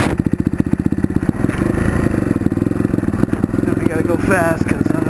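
A motorcycle coasts downhill in neutral on the way to a dirt trail, its engine ticking in a rapid steady idle-like rhythm close by, with rattling and clatter from the bike over rough ground.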